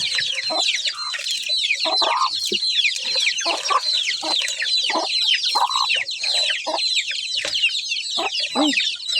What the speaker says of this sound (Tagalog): For the mother chicken.